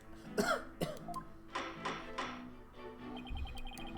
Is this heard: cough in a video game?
yes